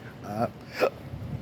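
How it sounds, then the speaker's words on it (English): A person hiccups during casual talk, two short abrupt voiced catches with speech-like sound around them. "Hiccup."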